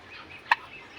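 A newborn turkey poult on a turkey farm gives a single short, high chirp that stands out against a soft background hum, close and fairly clear.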